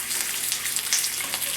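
Streak o' lean, a salt pork, fries in a pan with a bright, crackling sizzle, close and continuous, small pops rising through the steady fry.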